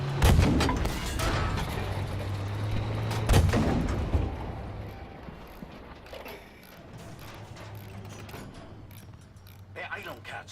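Tank cannon in a video game firing a couple of heavy booming shots amid clanking mechanical noise and a low engine hum, with voices talking over it.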